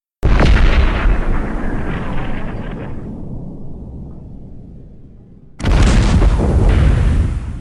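German submarine cannon fire striking a schooner at sea in the Caribbean: two loud, close booms, the first decaying into a long rumbling tail before the second blast hits at full force, with no voices.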